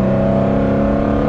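A Mercedes C63S AMG fitted with a €4000 aftermarket exhaust holds a loud, steady, deep engine rev close by, continuous throughout with no talking.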